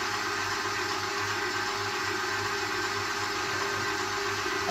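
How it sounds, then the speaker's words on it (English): Kenwood stand mixer beating cookie batter at a raised speed, a steady close motor whir with a constant hum that holds without break, no talking. "And now I'm going to increase my speed. I'm going to mix it now for about 20 seconds."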